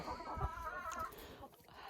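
Chickens cluck softly with a faint rooster call in a muddy farmyard on a frosty day, a low, distant murmur of fowl with no talking.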